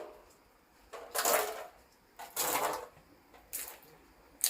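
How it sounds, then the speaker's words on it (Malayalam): A rubber sheet roller presses latex sheets into shape, giving three rough, grinding mechanical bursts about a second apart over a quiet outdoor background. "അമ്മ ഇവിടെ ഷീറ്റ് അടിച്ചുകൊണ്ടിരിക്കുകയാണ്."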